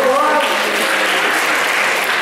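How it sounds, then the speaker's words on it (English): An audience at a Queens College magic show claps briefly but densely, a short, fairly loud burst of applause with voices mixed in. "Give him a big round of applause."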